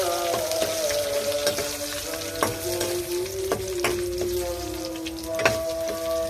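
Coriander and curry leaves frying in a pan, a continuous close sizzle with crackling pops and occasional stirring scrapes.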